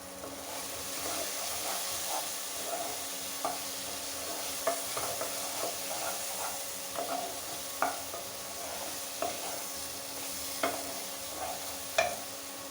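Potatoes fry in a pan for duck egg curry with a faint steady sizzle, punctuated by regular light clinks and scrapes of stirring, fairly quiet and close.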